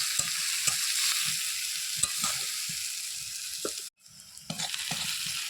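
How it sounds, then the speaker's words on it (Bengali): Onions sizzle steadily in hot oil for a goat meat curry, with a spatula scraping and stirring in short strokes and a brief pause near the end. "পেঁয়াজ ভাজা হয়ে গেছে"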